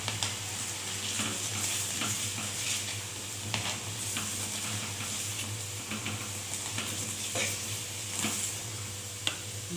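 A millet rotla cooks in ghee on a hot griddle, giving a steady, even sizzle with small intermittent clicks and scrapes. There is no talk.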